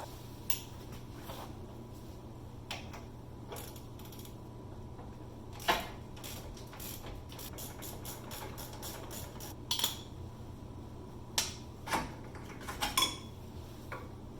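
A wrench works 19 mm bracket bolts loose on a Jeep Wrangler YJ during a lift install. Sparse metallic clicks and clanks, some in quick clusters, sit over a low steady hum, with no talking.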